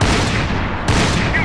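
Gunfire in Max Payne 3 during a sniper ambush, a loud dense blast of shots and echoing booms packed into a brief, close burst with no talking.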